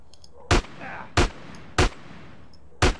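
Gunshots in a gang-war mission of GTA San Andreas on PS2: four sharp, loud single shots spaced irregularly across a few seconds, with faint game ambience between them.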